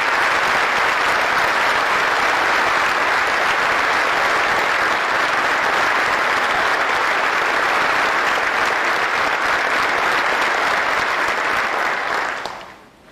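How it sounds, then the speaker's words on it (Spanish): An audience at the closing of a party congress bursts into loud, sustained applause for elected candidates, dense clapping that holds steady for about twelve seconds before fading out abruptly. "les solicito un fuerte aplauso para ellos"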